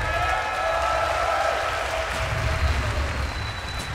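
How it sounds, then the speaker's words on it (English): Crowd at a live esports event at The International, a Dota 2 tournament, cheering and applauding for team DK: a dense, sustained roar of clapping and shouting, loud and steady throughout. "let us hear some noise for DK."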